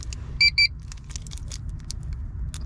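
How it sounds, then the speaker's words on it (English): Two quick electronic beeps from a JDi push start button module in a Honda B-series turbo EG hatchback sound close together near the start, signalling unlock, followed by soft clicks and faint handling noises. "when this module beeps twice, it means that it is unlocked"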